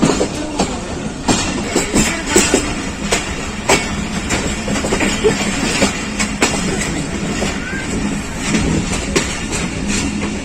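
Pakistan Express train running on the rails between Faisalabad and Rawalpindi, a loud, continuous rumble inside the carriage with rhythmic clickety-clack wheel beats throughout.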